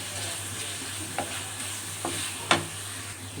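Mutton fries with spices in a pan, making a continuous close sizzle punctuated by a few spatula scrapes and taps, with no voices.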